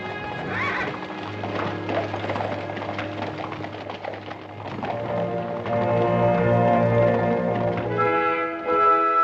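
Several horses clip-clop at a steady riding pace in a western setting, hooves clear over a sustained low musical drone, with a neigh or whinny rising partway through.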